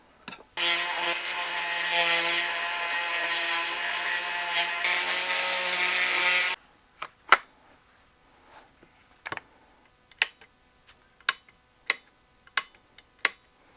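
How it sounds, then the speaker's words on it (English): A Dremel rotary tool grinds a clearance area on a Remington 721 rifle part, a loud steady high whine for about six seconds before cutting off, followed by sparse sharp clicks and taps. "So I'm going to Dremel out a little clearance area right there and see if that solves the problem."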